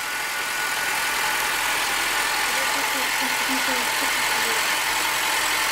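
Honda Civic engine idling just after a cleaned starter brought it back to life, a steady close hum with a loud hissing wash over it throughout, with a voice speaking faintly underneath.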